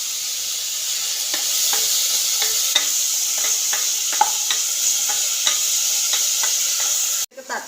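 Onions with ginger, garlic and salt fry in a pan for chicken biryani, giving a loud, steady sizzle broken by regular scraping spoon strokes, ending in a brief clatter.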